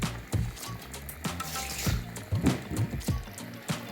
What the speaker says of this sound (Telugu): చూడండి, వాటర్ కూడా వేసేసాను.